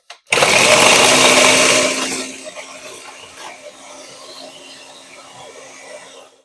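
A kitchen mixer grinder whirs loudly as it grinds ingredients for laddu, a harsh motor roar for about two seconds that then drops to a quieter, lingering hum.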